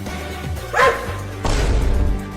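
A cartoon dog gives a couple of short barks, close and fairly loud, with a brief thump between them.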